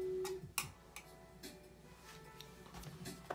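Small screws being undone on the aluminium bottom case of a 13-inch MacBook Air A1466, quiet close-up ticks and tool clicks at an uneven pace, with no talking.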